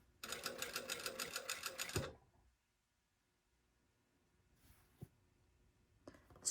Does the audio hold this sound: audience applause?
no